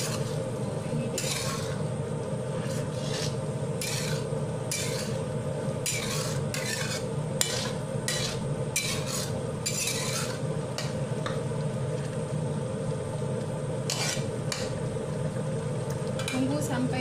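A spoon stirs hot chili peppers into a pot of sayur lodeh with tempeh and tofu, giving repeated scraping strokes over a steady simmering sizzle, close and moderately loud, with no talking.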